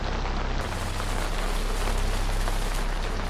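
Steady, heavy rain pours continuously, a dense broadband hiss with a low rumble underneath, close and loud throughout.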